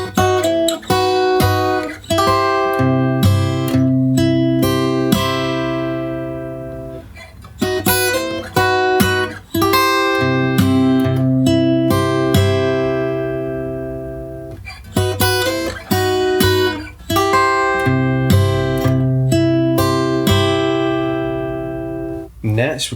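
Acoustic guitar playing the third line of a song's chorus, with strummed and picked chords ringing out in repeated phrases, loud and close with brief pauses between passages and no voice over the playing.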